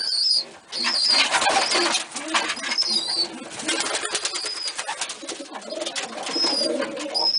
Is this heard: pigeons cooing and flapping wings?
yes